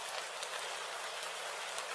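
Rain falls steadily in a cartoon scene, a dense even hiss of drops with no pauses and no voices, moderately quiet throughout.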